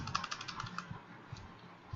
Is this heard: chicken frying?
no